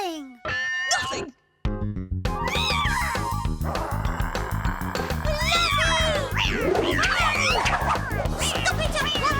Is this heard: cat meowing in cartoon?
yes